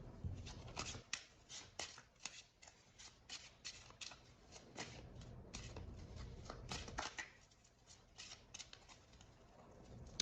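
Tarot cards are shuffled by hand in quick, crisp riffles and flicks, a dense run of papery snaps with short pauses between bursts, close and fairly quiet.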